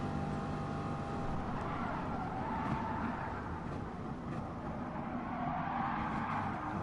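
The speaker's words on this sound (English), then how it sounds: "Danny just bounces off of the rev limiter there" A Corvette race car in a racing game screams at high revs near the rev limiter through a twisty track section, a loud continuous engine drone with slight pitch wavering and no break.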